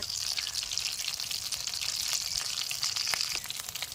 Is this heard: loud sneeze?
no